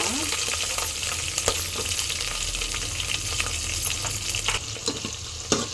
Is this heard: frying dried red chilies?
yes